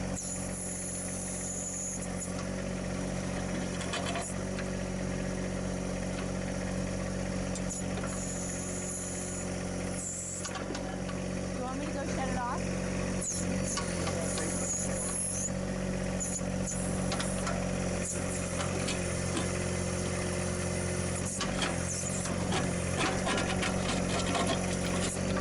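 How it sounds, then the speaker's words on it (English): A John Deere 1025 compact tractor's engine drones steadily and close throughout as its backhoe digs through stubborn rock, clay and dry dirt, with faint scraping over the constant motor. "So we're continuing to dig our way through some stubborn rock and clay and dry dirt."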